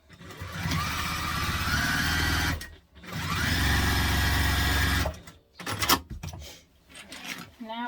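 A sewing machine top stitches a teddy-bear backpack in two long steady whirring runs, loud and close, then stops and restarts in short bursts with handling noise between them.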